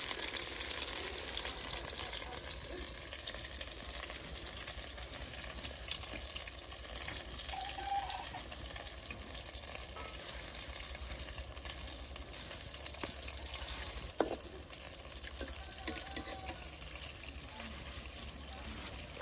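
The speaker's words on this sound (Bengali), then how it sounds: "তেলে একদম টকবকে উঠতেছে।" Potatoes fry in bubbling oil in a village home kitchen, a soft continuous sizzle and crackle, fairly quiet and steady, with a faint clink partway through.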